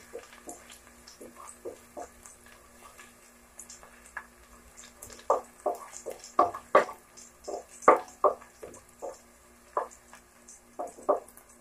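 Garlic browning in a frying pan, giving sparse, irregular pops and crackles up close that grow busier midway, with no talking.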